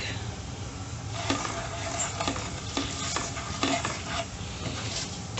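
Garam masala, chili, turmeric, coriander powder and salt roasting in a pan, a steady frying hiss punctuated by regular scraping strokes of a spoon stirring against the metal.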